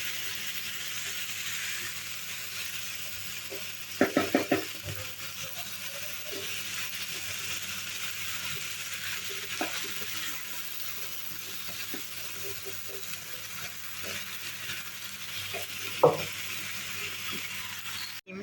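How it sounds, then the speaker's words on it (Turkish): Vegetables and potatoes sautéing in a pan, a steady soft sizzling hiss running throughout with a few sharp clacks of a utensil against the pan, moderately quiet and close. "Şimdi bütün sebzelerimi kattım. Kavuruyorum."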